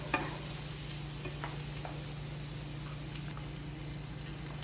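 Carrots fry in a pan on a stovetop at medium-high heat for red curry vegetables, a steady close sizzle with a low hum beneath and a few faint clicks of stirring.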